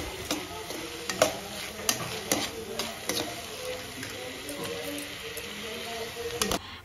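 Onions frying in a pan, a steady sizzle with scattered clicks and taps of a spatula stirring, close and moderately loud, no talk.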